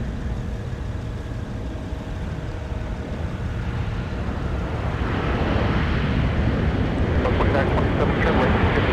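An airplane taxiing at Minneapolis–St. Paul airport in winter gives a steady, broad engine rumble that swells louder in the latter half, with radio-like voices running underneath.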